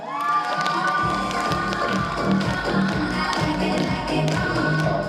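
A KVN comedy-contest audience at a Bashkir State University rector's cup cheers and claps, a dense, loud crowd roar with rhythmic clapping and shouts running throughout.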